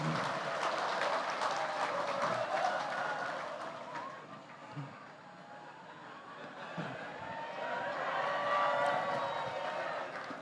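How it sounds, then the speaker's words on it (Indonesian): Sustained applause from a large crowd at a speech by Indonesian President Prabowo, steady and dense, continuing for the full stretch without pause and swelling slightly toward the end. "Tepuk tangannya kok panjang banget."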